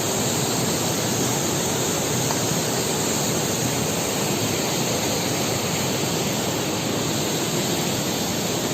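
A waterfall on the Kalsa River in Uttarakhand roars as a loud, constant broadband rush of falling water, unbroken throughout with no voices.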